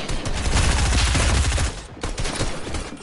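Rapid sustained fire from a drum gun in Fortnite, a dense rattling stream of shots that runs nearly unbroken, dips briefly near the middle, then resumes loud and close.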